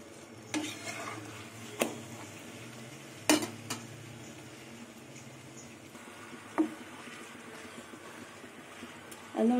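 Carrot paratha made with flour frying in a pan, a soft continuous sizzle with occasional sharp clinks and scrapes of a spatula against the pan, close and fairly quiet.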